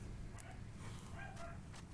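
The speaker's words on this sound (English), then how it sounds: "Sorry for the barking in the background." A dog barks faintly in the background in a brief, quiet burst of a few yips and woofs.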